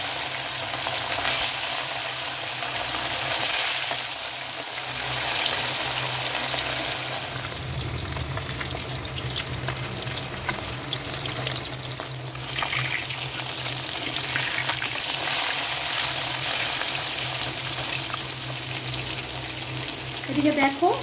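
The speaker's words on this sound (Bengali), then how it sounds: "তেলটা আমি ভালো করে গরম করে নিয়েছি। মাছগুলো এবার ভেজে নেব।" Fish frying in well-heated oil gives a loud, steady sizzle that runs without a break for about twenty seconds.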